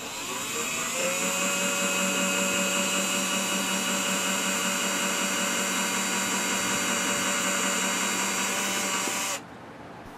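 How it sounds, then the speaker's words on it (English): A cordless drill whirs at a steady high pitch for about nine seconds while drilling a pilot hole to mount a power outlet box, then cuts off abruptly. "So with a battery-operated drill, I'll start the pilot holes to help mount the power outlet boxes."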